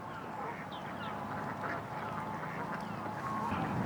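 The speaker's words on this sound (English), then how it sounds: "These are big birds, whatever type of duck that is." Large ducks quack repeatedly in a loose, overlapping chorus close by, with a steady background murmur underneath, at the British seaside.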